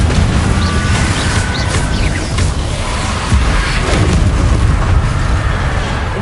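The Confringo fire-blast spell from Hogwarts Legacy on PS5 bursts loud and close, a dense, crackling roar of explosive noise that holds steady for several seconds.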